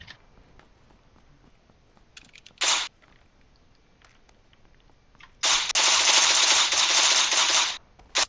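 Gunfire in the battle royale game PUBG comes as a short burst of shots followed by a long sustained automatic volley lasting about two seconds, loud and close, with scattered faint clicks between.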